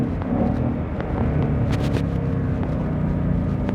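The exhaust of a Lethal Performance 2020 Shelby GT500 gives a loud, deep, steady rumble while downshifting on a drive, heard from inside the car with no talking.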